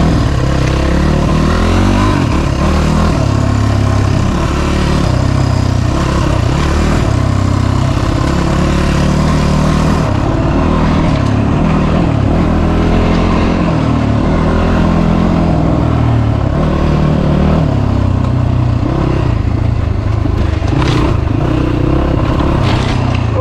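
A 2018 SSR 250S motorcycle on a test ride roars loudly and continuously, the engine revving up and down through gears with rough rattling and scraping, close and unbroken for over twenty seconds.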